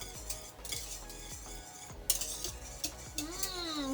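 A utensil stirring a strawberry and white chocolate tart mixture in a bowl, repeated scraping strokes and light clinks against the sides in a steady rhythm, close up, with a brief squeaky scrape near the end.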